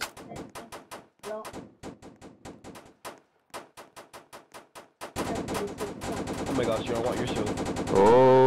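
Rapid bursts of video game gunfire in Roblox rattle in quick, evenly spaced volleys, briefly pausing before a denser, louder stretch of continuous shooting with effects layered on top.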